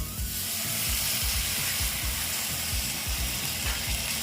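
Egg and boiled potato dhoka dalna fries in a pan with a steady, soft sizzle, joined by faint rhythmic scraping clicks as the mixture is stirred and turned.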